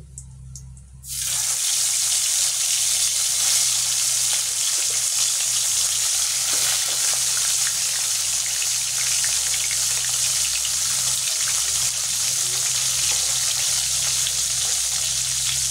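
Loud, continuous hissing sizzle of chitol fish frying in hot, reused frying oil starts abruptly after a brief quiet moment and holds steady throughout.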